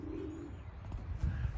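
Pigeons coo softly near a loft cage, one bird's low repeated coo early on, then more murmuring coos and faint rustling around a young bird wearing a yellow leg band.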